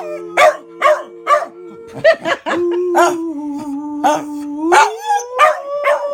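A dog howls along with a person singing, its drawn-out wavering howls and yelps weaving between the sung phrases at close range, with some barking and laughter mixed in.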